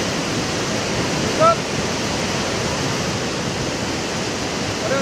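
Floodwater rushes with debris after a cloudburst at Sahastradhara near Dehradun, a steady, loud broadband roar without letup, with a faint brief click partway through and speech blended into the churn.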